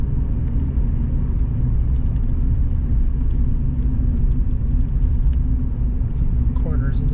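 A car on new tires cruises along a snowy country road, giving a steady low rumble and tire whir close by, with people talking throughout.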